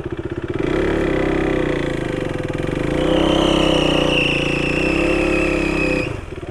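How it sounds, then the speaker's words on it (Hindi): A modified KTM Duke 390 motorcycle engine holds a loud, close, sustained rev, dipping and climbing again with a whining tone before dropping back toward idle. "अभी तुमको एक चक्के पे दिखाता हूँ गाड़ी।"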